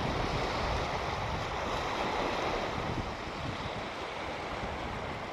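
A small stream flowing at Senjugahama on the shore of Lake Chuzenji, Nikko, a steady broadband rush of water that stays fairly constant and close throughout, with no talk.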